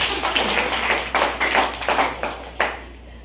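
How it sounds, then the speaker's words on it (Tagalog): A handful of people in a church congregation clap in uneven bursts, close by, with the claps fading out near the end. "Palakpak naman kayo dyan"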